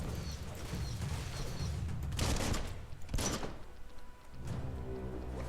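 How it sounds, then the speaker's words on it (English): Electric bolts fired in the video game Biomutant crackle in a few bursts over busy in-game ambience, with no talk. "I can just shoot electric bolts at him."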